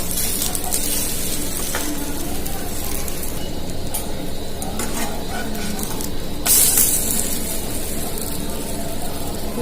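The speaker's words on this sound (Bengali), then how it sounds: "আমি আর একটা সাইড এভাবে ভেজে নেব" Steady, dense sizzling hiss of an oat snack frying in a pan, continuous throughout with a brief louder burst near the end.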